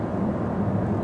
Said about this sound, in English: all the noise you're hearing is all just pure road noise